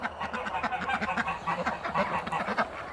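A flock of farm ducks, including a female harlequin duck among mixed breeds, quacks continuously in a dense, overlapping chorus of rapid calls close by, with no voices.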